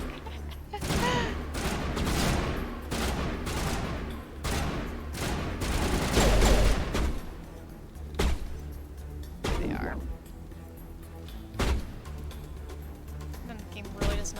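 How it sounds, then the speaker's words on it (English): Sniper rifle gunfire from the video game Mass Effect Legendary, heard as a string of loud, sharp shots and booming blasts packed close together, then thinning to a few isolated cracks over a low game-ambience hum. "That's such overkill to use the sniper rifle in here."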